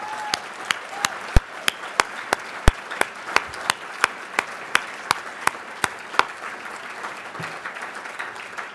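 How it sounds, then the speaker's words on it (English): Sharp, evenly spaced claps ring out at a charity dinner held in darkness, one crisp hit roughly every third of a second over a low hum of the room, sounding like a single close clapper or rhythmic audience clapping. "One more round of applause."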